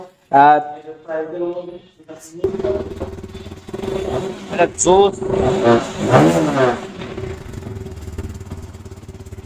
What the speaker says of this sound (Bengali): এই এক্সস্টটার সাউন্ডটা আমি জাস্ট একটু শোনাই